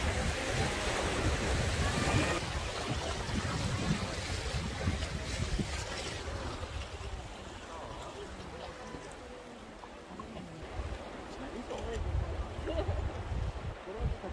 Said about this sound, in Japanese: もっと波が高くなりますね。